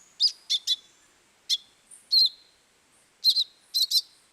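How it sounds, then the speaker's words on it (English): Thick-billed euphonia, a tiny South American songbird, giving about eight sharp, high chirps in short clusters, close and clear with silence between. "a tiny songbird in South America called the thick-billed euphonia does employ what scientists call deceitful mimicry"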